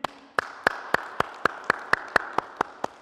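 One person claps alone during a home sport session, about a dozen evenly spaced, crisp handclaps in a steady rhythm in a quiet room.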